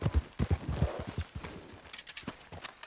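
Horse galloping in the video game Red Dead Redemption 2, quick rhythmic hoofbeats close by that start strong and continue a little lighter, with no talking.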